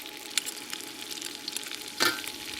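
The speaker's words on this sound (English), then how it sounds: "chili pepper, and you fry this up a little bit" Chicken wings sizzle steadily in a pan with chili pepper and sweet bean sauce, a close crackling hiss broken by scraping stir strokes and a louder burst about two-thirds through.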